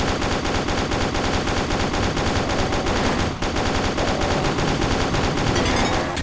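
Rapid turret gunfire in Wolfenstein 3D, a dense, relentless stream of loud machine-gun shots rattling without pause through the whole stretch, with a brief dip partway through.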